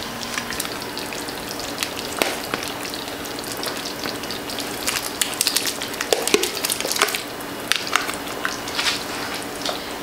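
Shrimp drop into a simmering pot of New Orleans gumbo, a crackly, sizzling bubbling with scattered sharp pops and splashes running steadily throughout, with no talking.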